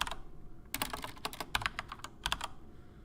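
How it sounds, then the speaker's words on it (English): Typing on a computer keyboard, a quick run of sharp, close key clicks in irregular bursts over low background hum. "I'm going to type player."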